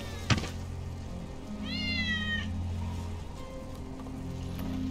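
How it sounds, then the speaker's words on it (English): A cat meows once, a short rising-falling call in Final Fantasy VII Remake, heard over a low game ambience with a brief thump just before. "That's Wedge's cat."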